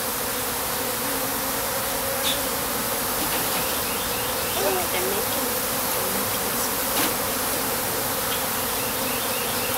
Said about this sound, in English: There's a big old hunk of bees.